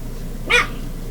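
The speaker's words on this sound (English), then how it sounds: "The dogs are trying to figure out why they can't get back here" A dog gives a single short bark, fairly close, in an indoor kitchen while state fair fried foods are being cooked on a stovetop, with a steady low background hum.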